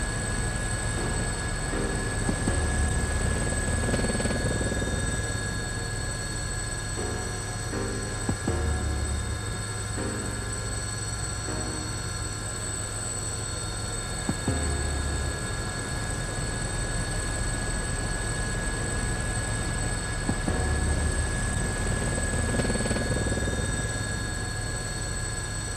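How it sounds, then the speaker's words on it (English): A video game helicopter flies with a steady, droning rotor hum and a faint rhythmic chop, heard continuously at moderate level without talk. "It's amazing that you know how to pilot a helicopter, Kikuno-san."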